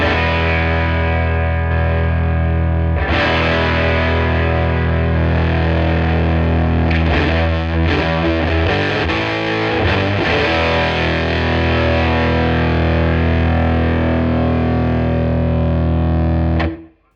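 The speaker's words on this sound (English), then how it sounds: "Tweed distortion." A loud, fuzzy distorted electric guitar plays sustained chords and riffs for the whole stretch through a DELUXE55 amp's Tweed distortion, with a thick, saturated tone, then cuts off at the end.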